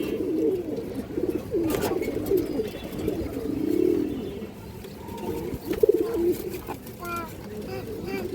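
Indian high-flyer pigeons coo steadily in a low, throaty murmur, with a person talking over them and occasional rustles and wing flaps nearby.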